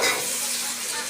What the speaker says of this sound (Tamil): இப்போ நம்ம உருளைக்கிழங்கு ஆட் பண்ணிப்போம்.